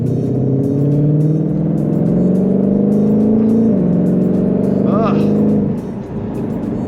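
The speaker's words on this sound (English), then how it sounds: "You can hear that supercharger. It's loud." A supercharged Ford Mustang Shelby GT500 engine roars loud and close, climbing steadily in pitch under acceleration, dipping briefly, then pulling again before easing off, with a voice talking over it.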